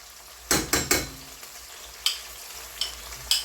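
Lamb meat, onion and garlic fry in a pan with a steady low sizzle, broken by a few sharp utensil clacks and scrapes as the food is stirred, close up and with no voices.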